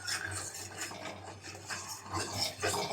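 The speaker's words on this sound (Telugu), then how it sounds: "మనం ఫోర్క్ వాడితే భలే మిక్స్ అయిపోతుంది" Fork stirring an ice cream mixture into milk in a bowl, a continuous scraping, rubbing swirl with rhythmic pulses of metal against the dish, close and steady, with no talking.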